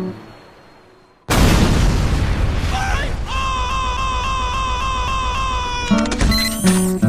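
A heavy-caliber tripod-mounted gun fires in a video game, starting with a sudden loud blast after a quiet lead-in and continuing as a dense, sustained roar with ringing mechanical tones and clatter toward the end.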